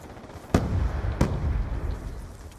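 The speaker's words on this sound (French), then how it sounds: "Grenade collante." A sticky grenade explodes in the video game Black Ops 2. Two sharp, loud blasts land about 0.7 seconds apart, each followed by a rumbling tail, over steady game background noise.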